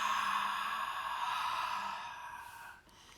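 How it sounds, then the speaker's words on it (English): A single long, soft breath pushed out through the mouth during a calm self-care breathing exercise, airy and close, fading away after about three seconds with no speech. "Exhale through the mouth."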